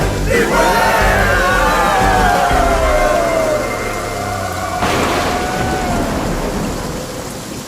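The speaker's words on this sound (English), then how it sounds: "Is it raining in there? It's raining out here, too." Heavy rain pours steadily while thunder rolls and crackles loudly overhead, one big rumble near the start and another crack later, in a dense, close stormy wash.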